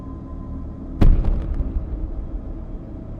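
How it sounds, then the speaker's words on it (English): A gas explosion rips through a building, heard as one sudden loud blast with a broad rumbling burst, followed by a few sharp cracks and a lingering low roar of debris over steady background noise. "A massive explosion tore through the building, causing part of it to collapse."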